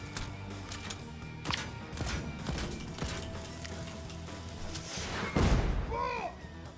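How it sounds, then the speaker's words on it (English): A rocket launcher in Deathloop lets off a heavy explosion with a deep boom and a trailing rumble, after scattered gunfire and thuds. A few faint game sounds follow it. "was that a rocket launcher?"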